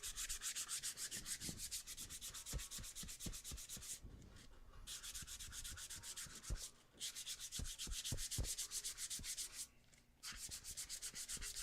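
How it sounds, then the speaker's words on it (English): Abrasive scuffing of loose overspray off a painted part of a Gonk droid build: close, continuous rhythmic rubbing strokes with two short pauses, and no talk. "Just gotta scuff the loose overspray off of it."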